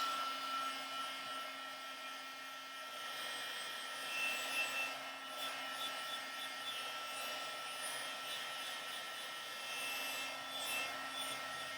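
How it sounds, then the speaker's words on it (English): Heat tool blowing steadily to heat set printed Halloween tags made with a Cricut Print Then Cut, a continuous airy whoosh with a faint whine, close and unbroken throughout. "I'm going to heat set this real quick."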